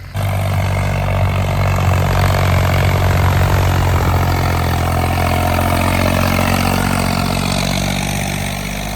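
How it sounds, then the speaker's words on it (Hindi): A tractor engine runs steadily while levelling a farm field, a loud, close, continuous low diesel drone that holds evenly throughout and eases off slightly at the end. "तो भाई दोनों ट्रैक्टर लग रहे हैं अपने पूरे काम पर।"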